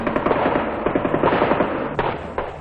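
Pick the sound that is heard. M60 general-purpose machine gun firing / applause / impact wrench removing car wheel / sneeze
M60 general-purpose machine gun firing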